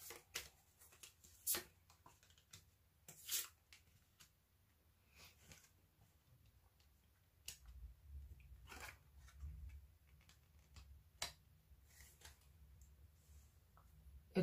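Tarot cards are shuffled and drawn, heard as scattered soft clicks, flicks and brief riffling bursts at irregular intervals, faint and close in a quiet room, with a soft low rustle in the later part and no talk.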